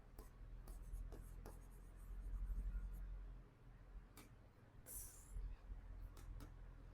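A teacher writing notes by hand during a physics lecture on electric charge and field, a series of short scratchy strokes spaced irregularly, fairly close and quiet, with a low hum behind them.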